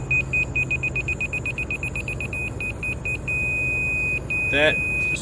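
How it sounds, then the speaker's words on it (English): A self-leveling laser level gives rapid, high-pitched electronic beeps in a steady pulsing rhythm, then holds a long continuous tone, with a brief squeak near the end. "those beeps are telling me to go this way or that way, up or down"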